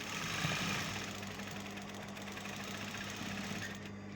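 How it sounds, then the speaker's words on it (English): A sewing machine stitches a quarter-inch seam with a steady, fast mechanical whir and rapid needle clatter, close and continuous, stopping abruptly at the end. "We're going to sew quarter inch."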